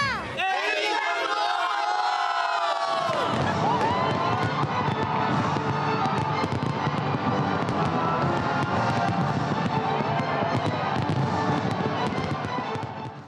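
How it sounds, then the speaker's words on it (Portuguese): New Year's fireworks pop and crackle densely while a large crowd cheers and shouts in celebration, starting with a rising whistle and then a sustained loud roar of bursts and voices. "E a virada de ano também foi comemorada com muita festa e fogos em outras capitais do país."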